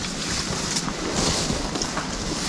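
Gusty wind buffets the microphone with a rushing roar, steady and fairly loud, mixed with a hiss like water or waves nearby; no talking.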